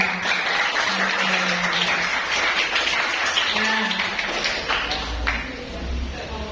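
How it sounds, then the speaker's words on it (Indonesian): A school class claps hands together after electing a class leader, a brief round of many hands amid classroom chatter and voices, moderately loud throughout. "tepuk tangan bersama dan dia"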